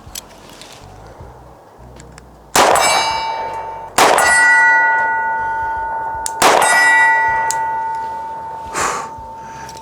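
Glock 20 10mm pistol firing Magtech 180 grain rounds at steel targets around 50 yards, three sharp loud shots each followed by a bright ringing clang that decays slowly, plus a fainter metallic ping near the end.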